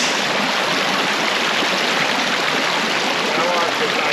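River water rushes steadily and loudly at a river crossing on a Missouri wilderness backpacking trail, a constant broadband wash with no break.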